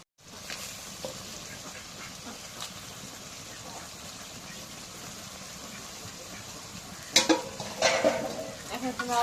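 Homestyle country chicken meat fries and gets stirred into a cooked-down spice paste, a soft steady sizzle with scraping stirs near the end, no talking.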